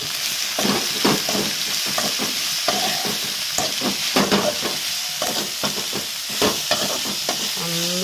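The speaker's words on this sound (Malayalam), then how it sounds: "നന്നായി ഇളക്കി നല്ല അങ്ങോട്ട് വാടി ഏകദേശം ഒരു ഗോൾഡൻ കളറാകുന്നത് വരെ നമുക്ക് വേവിച്ചെടുക്കാം" Sliced onions, salted, sizzle steadily in a pan while being stirred and sautéed, with repeated scraping strokes of a spoon against the pan over a constant frying hiss; no voices.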